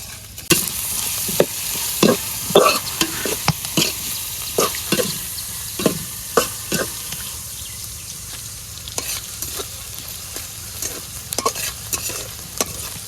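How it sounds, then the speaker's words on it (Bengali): Prawns and onion stir-fried in a thick wok crackle with a constant sizzle, broken by regular sharp scrapes of a spatula tossing the mixture, close and clear with no talking. "চিংড়ি মাছ আর পেঁয়াজ ভালোভাবে টালিয়ে নিচ্ছে"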